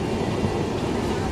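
Inside a moving train, a dense steady rumble and rattle of the carriage fills the brief moment, loud and close.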